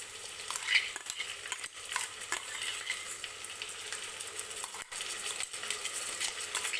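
Onion, tomato and ginger-garlic paste sizzle in oil inside a pressure cooker for mutton biryani, with steady frying hiss and intermittent stirring scrapes and clinks of the spoon against the metal pot.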